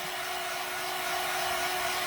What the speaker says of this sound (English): Just keep your dryer moving, because you're going to melt your wax.